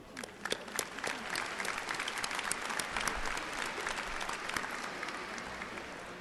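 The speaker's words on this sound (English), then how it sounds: "Let us applaud their dedicated efforts" At a community college commencement ceremony, a large audience claps steadily, a broad wash of many hands with a few sharper nearby claps standing out, sustained for several seconds without talk.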